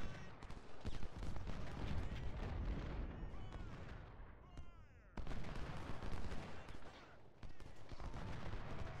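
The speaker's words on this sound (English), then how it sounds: "And Walton hitting them with artillery." Dense gunfire and booming artillery in the Ultimate General: Civil War video game, a loud continuous barrage of overlapping shots and blasts with a short lull midway before it resumes.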